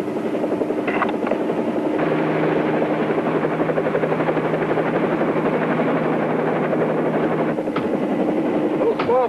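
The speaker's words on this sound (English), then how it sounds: "A little small for a copter, isn't it?" A helicopter from the early TV series The Whirlybirds flies with a steady, close rotor thump and engine drone that holds loud and unbroken across the whole stretch.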